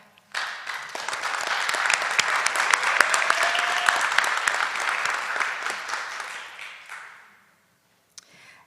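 Applause at a graduation ceremony as graduates stand to be recognized, a dense burst of clapping that rises quickly, holds steady for several seconds, then tapers off into near silence with a single stray sound afterward.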